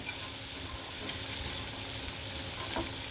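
Cooked black chickpeas sautéing in a pan, a steady soft sizzle with faint stirring scrapes throughout, close and fairly quiet, no voices.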